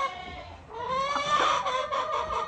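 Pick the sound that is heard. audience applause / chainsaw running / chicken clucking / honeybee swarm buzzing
chicken clucking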